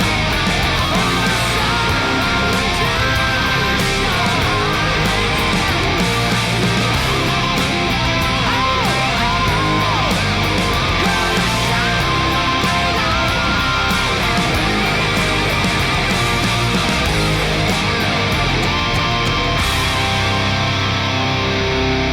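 Ending ride-out section of a song, a loud, dense rock band passage with distorted guitars and driving drums, sustained throughout with no speech over it.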